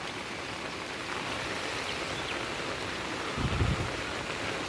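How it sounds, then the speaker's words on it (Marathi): Heavy morning monsoon rain pours steadily as a dense, even hiss close by, with a brief louder rumble near the end and no voices. "पाऊस तर खतरनाक लागतोय सकाळपासून"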